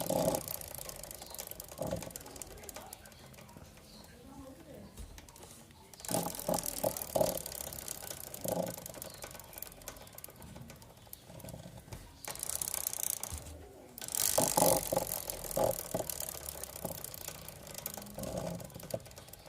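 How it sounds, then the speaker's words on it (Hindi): A loose chain on a Yamaha YB125Z motorcycle rattles against its chain cover, a faint, continuous clattering with irregular ticks that grows louder in a few stretches, with no voices. "वो चेन कवर के साथ टकराने लगता है, तो उसकी खड़-खड़ की आवाज़ आने लगती है"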